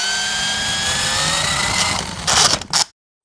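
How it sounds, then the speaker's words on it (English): Small remote control car driving past, a steady whirring electric motor drone that rises and swells near the end before cutting off abruptly, with no voices. "Here's the sound of a remote control car driving."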